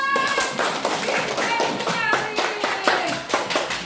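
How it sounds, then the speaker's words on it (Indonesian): Children clapping hands together in a classroom, a run of sharp rhythmic claps close by, with young voices chattering over them. "Beri tepuk tangan."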